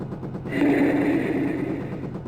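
A helicopter-launched missile fires in the Jane's Longbow game, a loud sustained whooshing roar that kicks in abruptly and holds steady over a rumbling engine bed.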